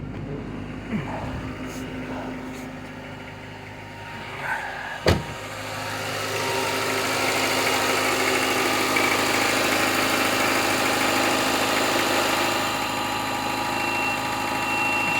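A 1993 Honda Accord with about 310k miles and a modified intake feeding an oversized throttle body idles steadily and evenly up close, with a single sharp click-like knock briefly cutting through the running engine.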